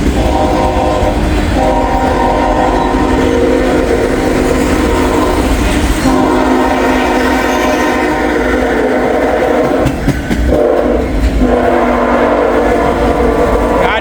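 A long freight train of autorack cars rumbles past close by in a steady, loud roar with rhythmic clacking, a distributed power locomotive at the rear bringing up the end, with brief horn-like tonal bursts.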